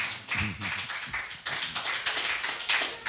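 A church congregation claps to acclaim God, a run of quick, irregular claps overlapping one another, fairly close and lively with several bursts in succession.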